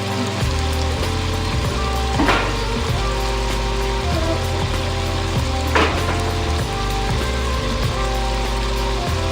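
Meat frying in a pan for Zatarain's jambalaya gives a steady, close sizzle over a constant low hum, with a couple of sharp clicks along the way and no talking.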